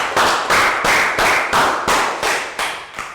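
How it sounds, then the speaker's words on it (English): Young children in a Year 3 classroom clapping in unison during a science lesson, about ten sharp, loud, evenly spaced claps in a steady rhythm close to the microphone. "Round of applause for Pankon."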